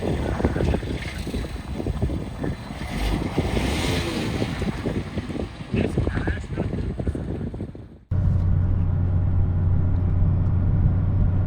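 A Mazda ND2 Miata sports roadster is driven along the road, with rough broadband wind and road rush building. It cuts off abruptly near the eight-second mark into a steadier low engine drone and hum inside the cabin.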